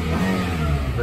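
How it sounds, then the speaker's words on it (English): A 2015 Toyota Camry SE with 36,805 miles revs its engine, a loud, close, sustained roar in a short burst. "Revs up just fine."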